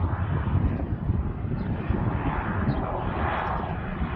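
A small propeller plane near Milwaukee's airport, its broad steady engine drone holding at moderate loudness and even level throughout, with no voices.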